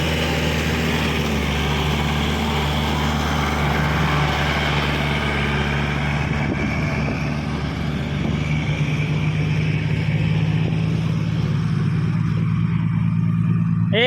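A delivery truck engine runs steadily while the truck maneuvers, a loud, continuous low rumble with a slight shift in tone partway through and no talk over it.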